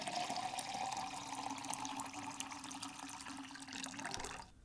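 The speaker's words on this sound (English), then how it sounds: "I fill the dirty, paint covered cup with water" Water runs steadily into a dirty, paint-covered cup, a close, continuous pour and splash that carries on for about four seconds before cutting off near the end, with no one speaking.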